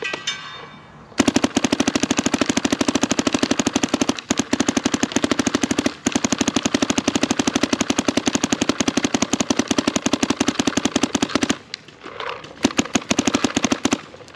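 A DSR+ air rifle at 2500 PSI fires a long rapid string of sharp pops at an outdoor field, with a few more scattered shots after a short pause.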